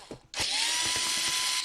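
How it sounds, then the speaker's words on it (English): A power screwdriver backs out screws on a Dell Latitude 7250 laptop, a brief handling knock and then a loud, steady high whine that runs without a break to the end, up close. "let's unscrew all of the screws around here."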